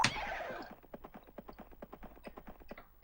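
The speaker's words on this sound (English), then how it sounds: "Right, here comes the horse." Galloping horse in the Amiga war game North & South, a quick run of rhythmic hoofbeats following a brief loud burst at the start, fairly faint overall and with no talk over it.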